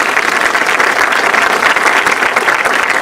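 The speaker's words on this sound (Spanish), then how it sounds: "lo recibimos con un aplauso" An audience at an evening talk applauds to welcome a speaker: dense, steady clapping from many hands, loud and continuous throughout, with no voices over it.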